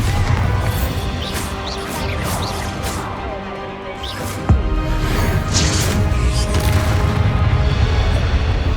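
A Bombarda spell blast in the video game Hogwarts Legacy, a loud dense burst with a sharp impact near the middle, surrounded by rumbling debris and crashing effects under a continuous game soundscape.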